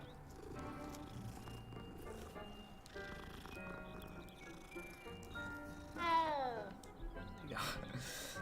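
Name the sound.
cat meowing in Hogwarts Legacy video game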